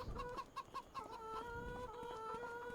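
Hens clucking inside a coop in Farming Simulator 25, a flock of 500 chickens giving short repeated clucks and rising tonal calls, fairly soft and close, with no talk over them.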